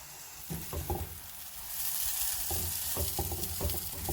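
Semolina halwa cooks in a pan with a constant close sizzle and intermittent scraping as it is stirred, the frying hiss growing a little louder midway, with no one speaking.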